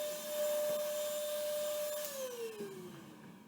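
A vacuum cleaner runs during a pet cage cleaning, with a steady whine that then drops in pitch as it winds down, fairly quiet and close by.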